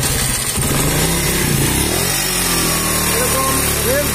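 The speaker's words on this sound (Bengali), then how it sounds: "তো এরকম বারবার বন্ধ হয়ে যাচ্ছে, রেস বাড়া দিয়েও রেস থাকে না।" A motorcycle engine that won't hold idle revs unevenly at close range, surging and sagging with a rough, sputtering note, while someone talks over it.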